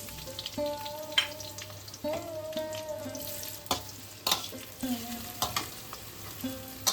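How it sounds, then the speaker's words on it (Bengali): Onion, garlic and ginger sizzle in vegetable oil in a wok while making chicken tikka masala, a steady fry broken by stirring scrapes and a few clinks, close and moderately loud with no talking. "কড়াইতে ভেজিটেবল অয়েল ঢেলে নিলাম। পেঁয়াজ, রসুন আর আদা আমি দিয়ে দিচ্ছি।"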